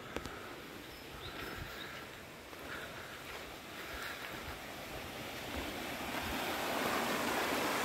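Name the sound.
river water flowing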